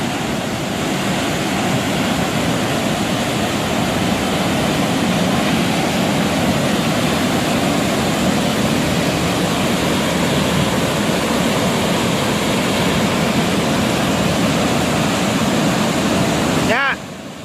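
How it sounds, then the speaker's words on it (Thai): Haew Narok waterfall at Khao Yai roars as a steady, loud, dense rush of falling water, continuous from start to finish before cutting off abruptly near the end. "น้ำตกเหวนะลูก"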